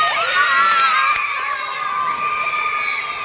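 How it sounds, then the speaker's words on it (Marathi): Children in a fourth-grade history discussion class cheer and shout together in a loud, continuous burst that fades slightly toward the end, with no separate claps standing out. "व्हेरी गुड टाळ्या"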